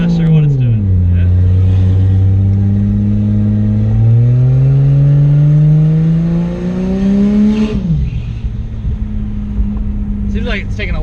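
A car accelerating with a transmission that struggles to shift under throttle. The engine drones loudly as its pitch climbs slowly, then drops sharply when the gear finally changes. The engine note steadies afterward.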